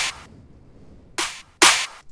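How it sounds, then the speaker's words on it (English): A layered snare-and-clap sample, two samples stacked, sounds as sharp noisy bursts: one fading hit, a pause, then two more hits in quick succession, loud and dry. "Then just this clap pattern. I layered 2 claps together."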